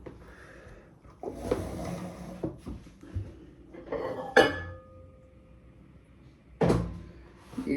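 A microwave door clicks open after milk is heated in a home kitchen, giving a few sharp latch clacks and clattering knocks spread over several seconds against quiet background.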